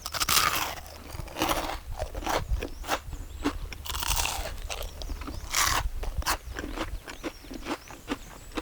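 Loud, close crunching as double-fried spring greens tempura, including mugwort, is bitten and chewed, sharp crackly bursts repeating irregularly with no talking.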